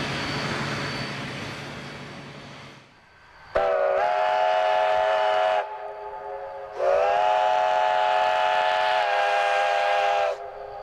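Steam locomotive on a former Denver and Rio Grande Western branch line in Provo Canyon, Utah, sounding a loud sustained whistle in two long blasts over the steady rumble and clatter of the train.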